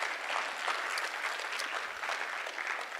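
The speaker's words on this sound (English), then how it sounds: "give a round of applause for those individuals" Steady, dense applause from a college presentation audience, continuous clapping at an even level throughout with no talking.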